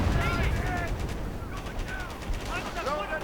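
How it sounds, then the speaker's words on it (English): Artillery and gunfire in a WWII strategy game strike a Panther tank, a dense rumbling barrage with layered explosions and overlapping shots, loud and continuous, with faint whistling tones drifting through. "And there we go, artillery going against the Panther."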